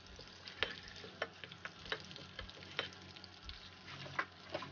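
Mustard seeds, cumin and garlic fry in hot oil for gongura pickle, a soft steady sizzle with scattered sharp pops and clicks from the seeds, fairly faint and close.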